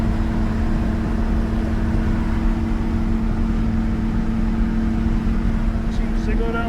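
A 1971 Chevy C20 Custom 4x4 long box truck cruises down the road at speed, its steady engine drone and road rumble continuous and loud from start to finish.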